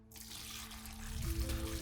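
Water pours steadily into an axolotl tank during a water change, a continuous close splashing flow that grows fuller and heavier toward the end, with no voices.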